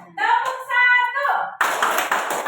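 A group of people in a clapping game clap together on cue, a burst of many hands after a single voice calls out, loud and close.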